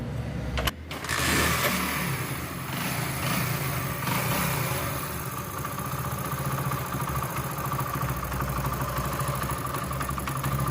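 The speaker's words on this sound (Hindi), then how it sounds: "तो अब हम मोटरसाइकिल को स्टार्ट करेंगे।" A motorcycle running without its magnet coil idles steadily after a short kick-start, its engine giving a continuous mid-pitched drone with a brief thump at the start.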